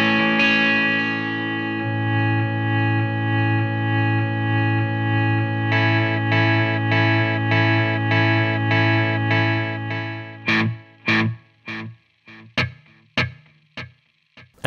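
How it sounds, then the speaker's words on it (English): A sustained distorted guitar chord rings through a reverb and delay pedal held at maximum decay by a foot switch, then short plucked notes repeat in a rhythmic series of fading echoes. "I can temporarily set the decay to maximum by pressing and holding the left foot switch. And that will lead to infinite delays."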